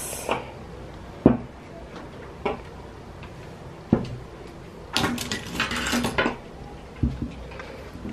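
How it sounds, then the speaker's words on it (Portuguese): Pink cutlery and glassware clink and tap against each other while a table is being set, several sharp metallic clicks spread across a few seconds, close by, with a denser rattle of handling midway and no talk. "E vou usar esses talheres rosas que eu comprei"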